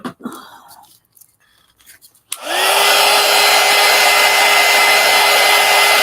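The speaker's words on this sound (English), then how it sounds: "Heat gun." A heat gun kicks on after a quiet stretch of small handling noises and then blows hot air with a loud, steady roar and a faint whine, used while making Masterboard art cards.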